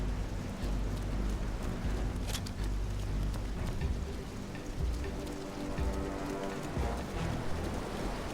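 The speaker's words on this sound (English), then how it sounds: "But yeah, the rain looks awesome." Steady rain falls in the Wii game GoldenEye 007, a dense continuous patter that holds at an even level for the whole stretch, with no voices over it.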